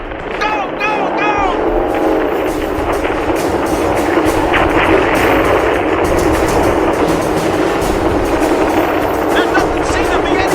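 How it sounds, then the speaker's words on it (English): In a radio drama sound effect, gunnery positions open fire: a loud, continuous rumbling roar with rapid rattling bursts layered over it, sustained throughout. "All the gunnery positions have opened fire!"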